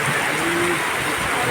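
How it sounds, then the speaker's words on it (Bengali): Heavy rain pours in a steady, dense broadband wash with no breaks, loud and close throughout the short stretch. "মুষলধারে বৃষ্টি হচ্ছে।"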